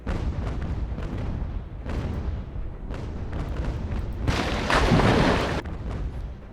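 Ship cannons fire at long range during a sea battle in the UGAR game: repeated heavy booms roll out one after another, with a louder, longer burst of rumbling blasts near the end.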